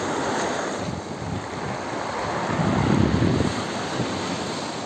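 Low sea waves wash steadily onto the shore, a deep continuous rushing roar that swells gently near the middle, with no talking over it.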